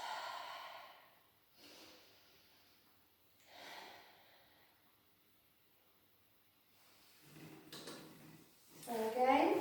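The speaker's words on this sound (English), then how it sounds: "lots of nice slow deep breaths" Slow, deep breaths taken during gentle mobility stretches, a few long soft exhales spaced several seconds apart before a voice begins to speak near the end.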